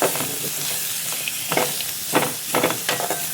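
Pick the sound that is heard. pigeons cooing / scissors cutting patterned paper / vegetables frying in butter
vegetables frying in butter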